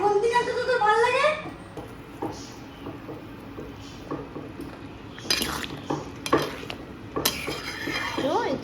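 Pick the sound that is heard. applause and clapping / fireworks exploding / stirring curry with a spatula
stirring curry with a spatula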